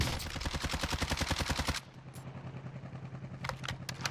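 Rapid automatic gunfire from a CR-56 rifle in Call of Duty Warzone, a loud sustained burst that cuts off abruptly, followed by quieter distant shots and a few sharp pops.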